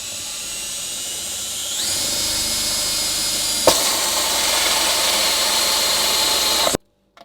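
A power drill whines steadily while boring holes in a custom side panel for a Royal Enfield Interceptor 650 motorcycle, a loud continuous high-pitched drone that shifts pitch partway through, jolts once, then cuts off abruptly.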